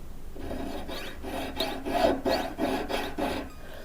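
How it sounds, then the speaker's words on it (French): A small saw rasps around the shank of a ring, a series of short, close, regular strokes repeated about eight times with brief pauses as the ring is turned, and no talking. "je scie un peu, puis je tourne un tout petit peu à chaque fois."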